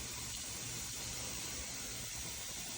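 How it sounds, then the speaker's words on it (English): Water poured into a glass mason jar packed with snapped green beans for canning, a steady, continuous gushing splash heard up close without a break. "Add some water."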